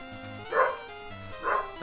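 Dog-like Pokémon cry from Pokémon HeartGold/SoulSilver, two short electronic yips about a second apart, clear and alone.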